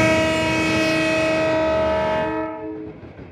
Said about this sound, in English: the horn from the Delaware Lackawanna's M630 3007 scared the life out of me